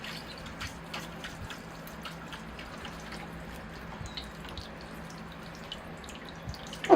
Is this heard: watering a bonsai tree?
yes